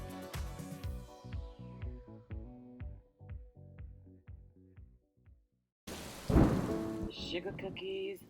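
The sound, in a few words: thunder and rain outside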